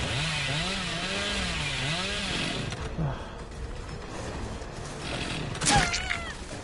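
The Hillbilly's chainsaw in the video game Dead by Daylight revs loudly with a wavering, surging motor whine for a couple of seconds, then cuts off, followed by clattering impacts and a sharp crash.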